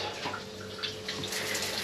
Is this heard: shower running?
yes